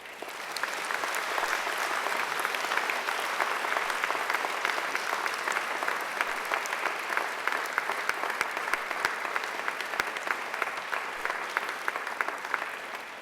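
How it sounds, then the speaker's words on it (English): At a university graduation ceremony, graduates applaud their families and friends in a large hall, a long, even roar of many clapping hands that continues without a break, heard from some distance. "And now I invite you to give them a mighty round of applause"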